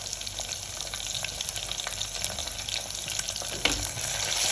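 Potatoes frying in a pan for a stuffed brinjal curry, a steady close sizzle with faint crackles and a few stirring clinks, no voices.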